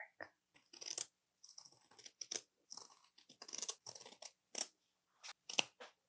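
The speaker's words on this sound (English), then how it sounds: "Let me get my fabric scissors." Fabric scissors snip through excess sewing fabric for Lane Pants, close crisp crunchy cuts in irregular bursts with short pauses, no talk.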